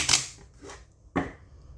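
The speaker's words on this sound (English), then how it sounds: "I'm going to shuffle each of these decks 3 times" Three quick bursts of tarot cards being shuffled by hand, a loud crisp riffle at the start, a softer one midway and another sharp riffle near the end, close and alone.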